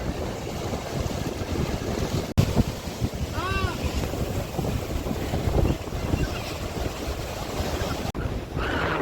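Sea waves surging onto a Goa beach at high tide, a steady broadband wash with wind buffeting the microphone throughout and a brief harmonic cry partway through.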